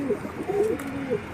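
A pigeon coos softly at close range in a few short, throaty rolling phrases, with quiet background around it.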